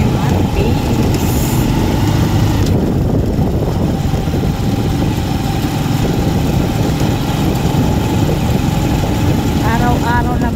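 A motorized tricycle idles close by on a Philippine street, its engine a loud, steady low rumble that runs throughout, with a few faint chirps near the end.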